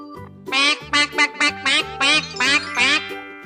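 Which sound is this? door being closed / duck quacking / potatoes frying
duck quacking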